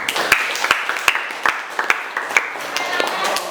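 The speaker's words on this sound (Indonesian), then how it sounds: "Kita tepuk tangan untuk kita semua." A class of students in a physics lesson claps together for several seconds, a loose run of sharp hand claps from a small group in a room, fairly close, with a little chatter underneath.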